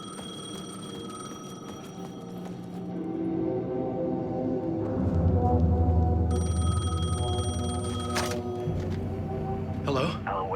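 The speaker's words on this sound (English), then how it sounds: "The payphone was ringing." A payphone rings in the video game Alan Wake 2, a steady bell-like ringing heard through a dense layer of game music and ambience at moderate loudness.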